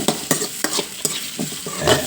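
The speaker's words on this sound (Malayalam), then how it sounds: "ഇതൊക്കെ ഇട്ട് നമുക്കിത് നന്നായി മുരിച്ചെടുക്കണം" A spoon scrapes and stirs ingredients frying in a pan for coconut chutney. Rhythmic strokes come roughly every third of a second over a soft sizzle, close and alone.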